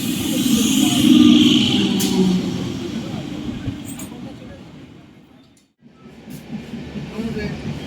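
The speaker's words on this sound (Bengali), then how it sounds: "ট্রেন অ্যানাউন্সমেন্ট হয়ে গেছে হ্যাঁ, ট্রেন ঢুকবে" A train pulling into Kachrapara station late on a cold night, a loud low rumble swelling in the first seconds and then easing off, with a brief cut near the end before the rumble returns.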